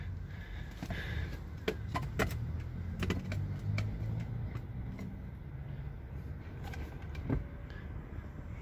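An electric power seat motor in a 2018 Hyundai Elantra hums steadily and close inside the car, with a few sharp clicks and knocks over the motor whine and no talking.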